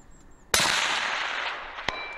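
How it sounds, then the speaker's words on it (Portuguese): A sniper rifle shot fired by Portuguese army rangers at a target 400 metres away: a single sharp, loud crack with a long rolling decay, then a brief fainter metallic click, with no voices. "O sniper faz um disparo."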